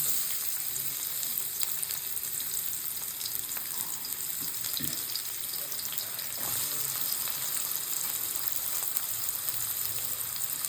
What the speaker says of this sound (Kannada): ಆಯಿಲ್ ಹಾಕ್ಕೊಂಡು ಆನಿಯನ್ಸ್ ಹಾಕ್ಕೊಂಡಿದ್ದೀನಿ